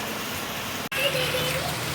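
Heavy rain pours down steadily as a dense, continuous hiss, broken by one brief dropout partway through.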